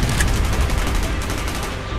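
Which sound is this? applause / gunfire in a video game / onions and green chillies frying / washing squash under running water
gunfire in a video game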